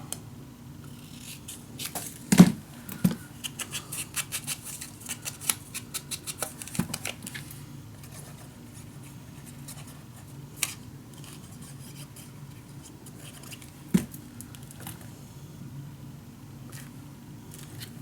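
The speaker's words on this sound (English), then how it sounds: "And then I am gonna cut this piece off." Scissors snip a piece off a scrapbook-style paper craft storage unit, a few quiet close clicks and cuts scattered over a low room hum with long gaps between them.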